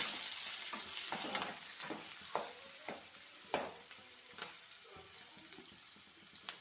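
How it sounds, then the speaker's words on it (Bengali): Garlic, onion and dried chillies fry in oil with a soft, continuous sizzle, broken by sharp clicks and scrapes of a spatula stirring in the pan, fairly quiet and close. "এখানে রসুন, পেঁয়াজ আর শুকনো লঙ্কা, তারপরে এটা একটু ভাজা ভাজা হয়ে গেলে"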